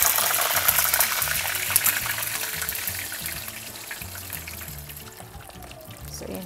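Arabic kibbeh, put into the pan straight from the fridge, fries in hot oil with a dense, continuous sizzle and sharp spattering pops, up close and without voices.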